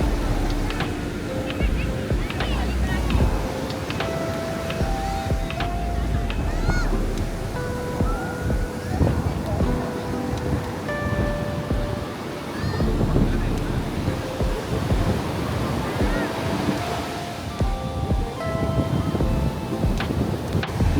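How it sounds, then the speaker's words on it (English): Rough sea surf rolling onto Candolim Beach in Goa, a continuous heavy roar of breaking waves mixed with wind buffeting the microphone and people talking nearby. "The sea is very rough, so everyone is avoiding not going out in the sea."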